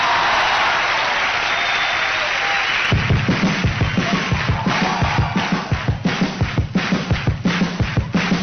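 A large crowd at the 1985 Teletón applauds to welcome a band, first a broad wash of clapping, then loud rhythmic unison claps with heavy thumps keeping a steady beat.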